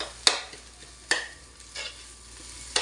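Dried fish (shutki) frying in a pan as it is stirred, heard as a soft, steady sizzle broken by a few sharp scraping clanks from the spatula, near and moderately quiet.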